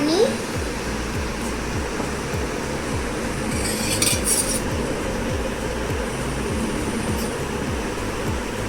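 A spoon stirs fruit salad dressed with honey and cardamom powder, making a rhythmic series of soft scraping strokes against a bowl, steady and close.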